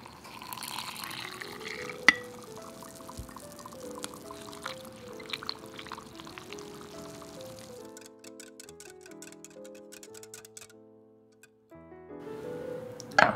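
Hot water is poured into chocolate cake batter in a home kitchen, giving a soft, thin trickle with light clinks and taps from utensils, faint and close, with no talk.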